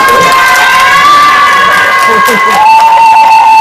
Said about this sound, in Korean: 큰 박수로 감사드립니다.